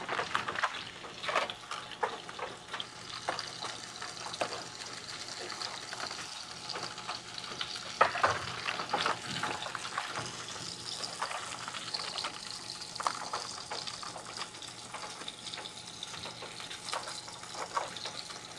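Hot cooked asparagus drained of its cooking water in a kitchen, a steady close pour and trickle of water with faint clatter, no talk.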